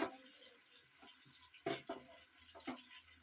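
Onions fry in a pan for a home chicken biryani, a faint steady sizzle with a few soft stirring clatters and scrapes on top.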